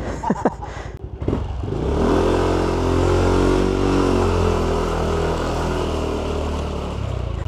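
A Yamaha Aerox v1 scooter on a test run out of a subdivision: a few clattering knocks, then the engine revs up and holds a steady, close drone while riding.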